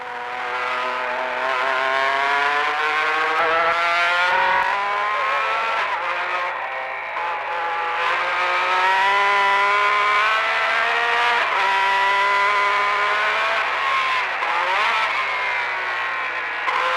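Turbocharged Formula 1 race car engines from the 1980s scream at high revs, their harmonic whine rising and falling as they accelerate and shift, loud and continuous for the whole stretch.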